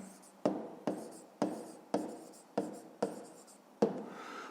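Pen strokes writing out a fifth-grade math solution, with about seven evenly spaced, crisp scratches close up against a quiet room.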